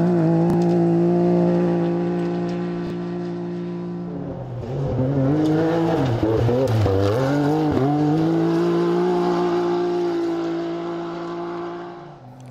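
A Land Rover 4x4 competing in an off-road rally roars past with a steady loud engine drone, rising and falling through revs mid-run as it passes close by, then settling back into a sustained growl.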